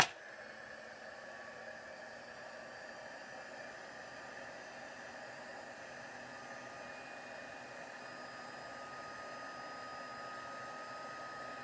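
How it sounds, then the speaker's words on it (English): Craft heat tool blowing hot air while melting embossing material on a handmade shaker card, a steady, soft hissing whoosh running unbroken and fairly quiet throughout. "So let's get the heat tool going."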